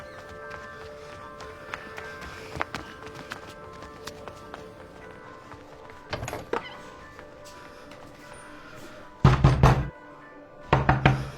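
Someone knocks on a door in several bursts of rapid, loud raps, separated by quiet stretches, with the last two volleys the most forceful.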